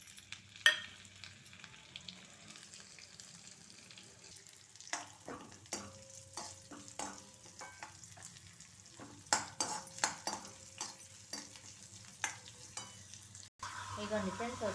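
Urad dal, mustard seeds, cumin and chopped green chillies sizzle in a pan of hot oil for tempering, with steady frying and bursts of spoon stirring and scraping against the pan, no talk.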